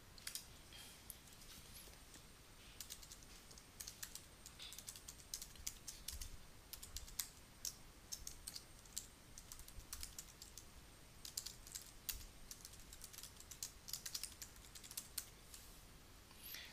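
Steady stream of fast computer keyboard typing while entering database details during a WordPress site migration setup, key clicks close and continuous with no talk.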